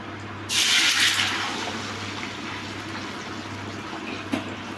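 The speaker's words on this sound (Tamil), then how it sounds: "இப்போ நம்ம வந்து வாட்டர் ஆட் பண்ணலாம்" Water poured into a pan of fried semolina while making kesari: a sudden loud rush of liquid that surges for about a second, then settles into a steady sizzling bubble with a faint clink near the end.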